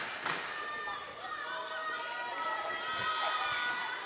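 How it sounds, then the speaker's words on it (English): A home crowd of Mustangs fans cheers and murmurs steadily at a girls varsity volleyball match in a gym, a dense roar with scattered shouts and a voice talking over it. "The Mustang crowd is getting charged up"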